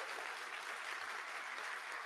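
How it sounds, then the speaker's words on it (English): Audience applause at a disability employment conference after a talk by the CEO of Morningside, a dense, steady wash of clapping from a crowd lasting about two seconds, moderately loud with no voices. "another round of applause for Jim."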